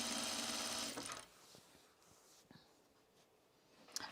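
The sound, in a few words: sewing machine stitching blouse seams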